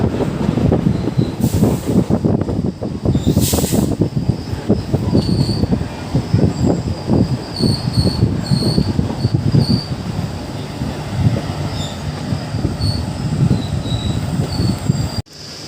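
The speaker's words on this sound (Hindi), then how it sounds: "हमारी ट्रेन गढ़ी मानिकपुर से चल चुकी है" Intercity Express train 14102 pulling out of Garhi Manikpur station, heard from inside a carriage: a steady loud rumble of wheels on rail with rattling, squeals and brief bursts of hiss, running continuously throughout with no talk.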